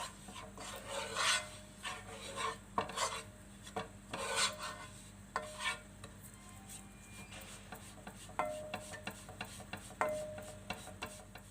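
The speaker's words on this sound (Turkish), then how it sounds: "Şimdi içine 3 yemek kaşığı unumu ilave ediyorum. Unumun kokusu çıkması için birazcık kavuruyorum." Flour stirred and roasted in melted butter in a pot for tomato soup, heard as irregular scraping and rasping strokes of a spoon against the pan, some louder, some fainter, with no talking.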